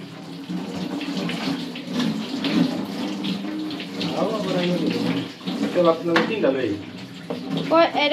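Tap water runs steadily over vegetables being rinsed in a sink, a continuous splashing wash with occasional clatter, while a person talks throughout over the flow.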